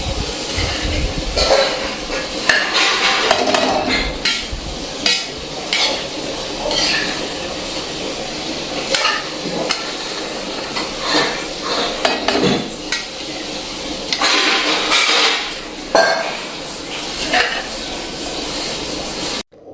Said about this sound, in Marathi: गरम कढईमध्ये ठेवल्यावर थोडंसं हलवत राहायचं इकडून तिकडून